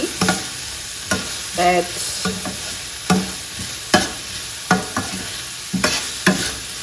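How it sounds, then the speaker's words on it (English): Onions and green peppers sizzle in a pan while a utensil stirs them in repeated scraping strokes, roughly one each half second, over a continuous frying hiss; a single word is briefly spoken. "now I'm just gonna give it a stir."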